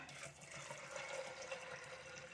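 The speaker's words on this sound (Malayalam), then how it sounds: "ഇതിലോട്ട് നമുക്ക് കുറച്ച് വെള്ളം ഒഴിച്ച് കൊടുക്കണം" Water pours steadily into a cooker holding washed lentils (parippu) in a home kitchen, a soft continuous splashing stream, faint and close, with no talking.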